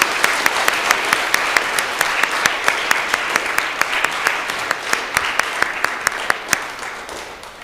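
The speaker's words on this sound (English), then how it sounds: "so let's give Chase a round of applause for his third place finish." A school audience claps for a third-place finisher at a Lutheran school spelling bee, dense applause with distinct individual hand claps standing out, loud and steady for several seconds before tapering slightly.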